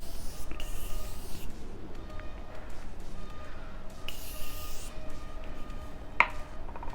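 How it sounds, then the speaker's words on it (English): A few soft hissing bursts of Morphe setting spray mist onto a face, each lasting about a second, against a quiet room background with no talking. "spray my face with Morphe settings, with the continuous setting mist"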